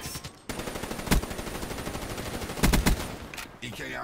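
Rapid gunfire from Call of Duty Black Ops 3, with a steady rattle of shots over constant game noise and two louder bursts breaking through, one brief and one longer.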